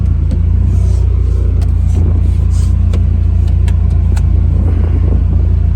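An old Honda car with a newly replaced distributor pulls off on a test drive, its engine giving a loud, continuous low rumble with light clicks and rattles above it.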